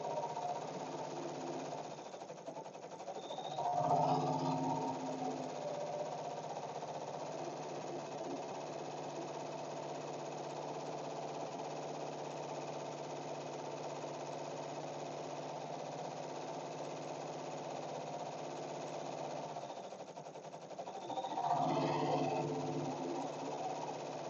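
An embroidery machine stitches a monogram onto a tote bag with a steady, fast mechanical whir and needle chatter. The sound continues evenly at moderate loudness, with brief heavier clunks near the start and again later.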